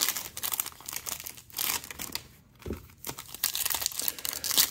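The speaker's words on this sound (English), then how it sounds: "Let's get some packs ripped, and then we'll open it up." 2021 Topps Finest baseball card packs are torn open up close, with bursts of crinkly foil wrapper ripping and crumpling in quick irregular handfuls and a short pause midway.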